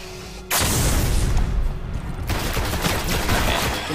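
Dense, sustained weapon fire from the Destiny video game starts abruptly after a quiet half second and keeps hammering without pause, loud and close, with booming impacts mixed in.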